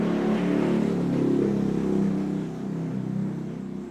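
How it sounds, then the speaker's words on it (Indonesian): A motorcycle with a loud open exhaust revs hard. The deep, raspy engine roar is close and continuous, swelling and easing over a few seconds with no voices. "kayaknya suara knalpot brong itu yang ikut menjauhkan kita dari Tuhan deh."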